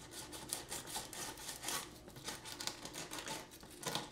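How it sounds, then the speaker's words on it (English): Steady rasping scrape of sandpaper working over painted plastic on a Falcon Heavy rocket model, continuous rubbing strokes at close range, quiet, with no talk. "What I'm doing right now is I'm sanding down the area that I want to coat with super glue"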